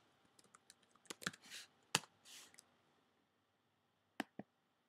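A password goes into a Mac computer keyboard in short, quiet bursts of close key clicks, a quick cluster of taps followed by a pause and two final presses.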